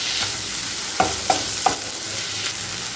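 Tomatoes with tamarind sauté in a pan for an onion chutney, a loud continuous sizzle with three sharp spatula taps close together and no voices.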